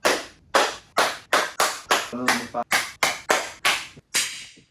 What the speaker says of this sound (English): That is called flutter echo.